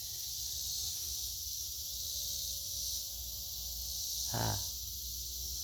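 Bees buzz steadily among blooming garden flowers, a continuous faint drone with one closer insect briefly passing near.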